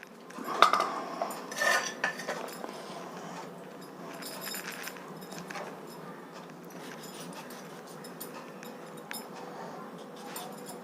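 Tomatoes being cut with a knife while making pickle, with a few sharp metallic clinks and knocks near the start and then quieter, irregular taps and scrapes over low background noise.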